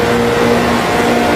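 A car at high speed in sixth gear, engine droning steadily and loudly with a constant pitch throughout, no voices.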